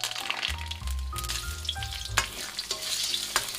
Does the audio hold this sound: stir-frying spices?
yes